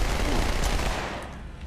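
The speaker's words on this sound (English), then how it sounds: "then you get the shotgun going and then it's a good time" Shotgun blasts in the video game Halo 2, a dense run of loud, close booming shots in quick succession that fade slightly toward the end.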